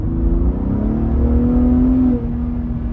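A 2023 Ford Raptor accelerating under throttle from about 40 mph, heard from inside as a loud, steady low engine drone with a rising tone that eases off near the end.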